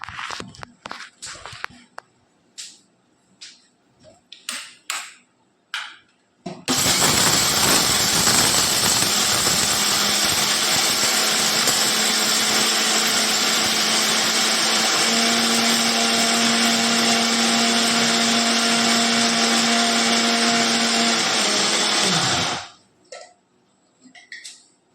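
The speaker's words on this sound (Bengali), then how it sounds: "দেখুন বন্ধুরা, এবার মিক্সিতে এটাকে গুঁড়ো করবো।" Electric mixer grinder pulverizing a spice mix for river fish bait: a few clicks and handling knocks, then a loud continuous whining motor for about sixteen seconds that winds down abruptly, followed by more clatter.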